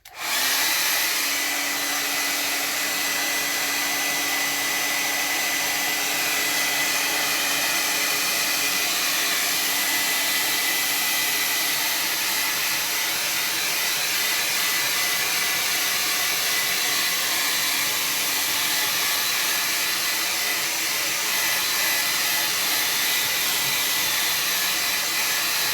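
A hair dryer blows steadily over a wet watercolor landscape painting, a loud continuous whooshing roar that starts abruptly and holds unchanged for the whole stretch, close and alone without talk.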